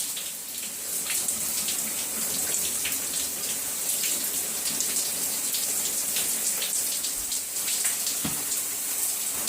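Running tap water pours steadily and loudly over wet hair during washing, a continuous hissing splash with small irregular spatters and no talk.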